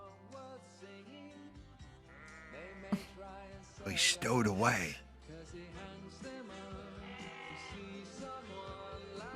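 Sheep bleating in a movie scene, a few wavering bleats that rise over music and a voice around the middle, loud and close, with talk before and after.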